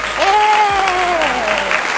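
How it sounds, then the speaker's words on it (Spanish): An audience applauds through a short burst of steady clapping, with a voice sounding over the noise. "Un aplauso, por favor."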